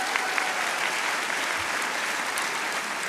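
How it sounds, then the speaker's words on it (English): Steady applause from a crowd of graduates at a University of Maryland Latinx graduation ceremony, a continuous wash of clapping heard from a little distance with a few sharper claps standing out. "so give yourself a round of applause"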